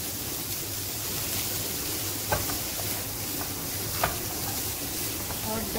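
Capsicum being stirred into a filling in a pan for chicken cheese dinner rolls, a steady soft sizzle with scraping and a few brief utensil clicks, alone without talk.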